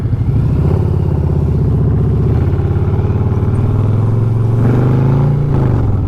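A 2020 Harley-Davidson Fat Boy cruiser's big V-twin engine runs close and loud with a lumpy, pulsing throb, rising in revs partway through and then holding steady.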